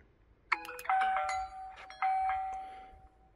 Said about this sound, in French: On va appuyer sur le bouton.